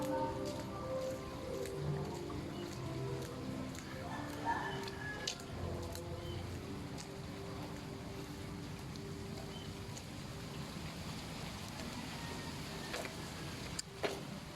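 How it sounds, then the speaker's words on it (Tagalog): Rain falls steadily at an MSC shrine in rainy weather, a continuous soft hiss of drops with occasional sharper patters and faint background rumble, moderately quiet and unbroken. "Maulan na panahon."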